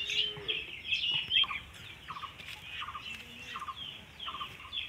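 Turkey chicks on a farm peep and chirp repeatedly in short, high calls, fairly close, with soft background rustling.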